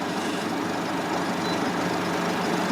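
A 2009 Mercedes W211 E220 CDI diesel sedan engine runs at a steady idle, a loud, constant close-up rumble with no talking.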